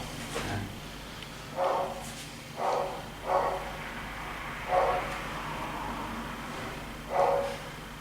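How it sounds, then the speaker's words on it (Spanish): A neighbour's dog barks five times at irregular intervals, moderately distant and muffled, over a steady low background hum with no one speaking. "Lo bueno de tener de vecino un perro que ladra es que no se van a quejar de los míos."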